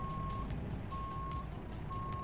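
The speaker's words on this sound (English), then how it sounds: "I love the sound of the truck backing up." A truck in American Truck Simulator backs up, its reversing alarm giving three long, steady beeps at even intervals over a loud engine rumble, with no talking.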